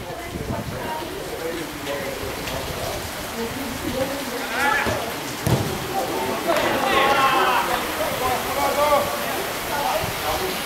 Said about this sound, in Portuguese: E na chuva, tá chovendo aqui no Rio de Janeiro.